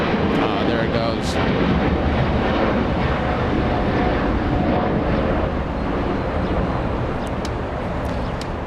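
China Cargo Airlines Boeing 777 taking off at Los Angeles International Airport, a loud sustained broadband engine roar with wind buffeting on the microphone, holding steady and easing slightly toward the end.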